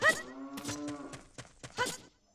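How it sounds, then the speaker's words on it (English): A cow in The Legend of Zelda: Ocarina of Time gives a couple of clear, nearby moos with bursts of clattering sound between them, alone without talk. "That cow you're hearing"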